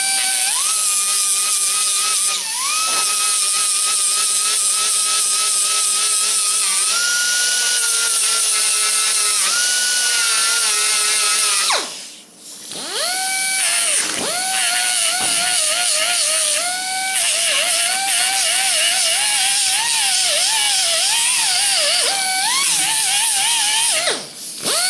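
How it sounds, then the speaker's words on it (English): Grinder whining steadily against the front fender of a 1977 Camaro Z28, a loud continuous tone that shifts pitch as pressure changes, with a brief pause near the middle before grinding resumes. "Grind that out, see how that looks."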